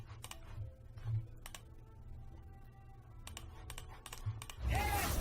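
A computer mouse clicks rapidly in short bursts while Hearthstone card packs are opened, the light taps scattered over a low hum, ending in a louder rush of game sound.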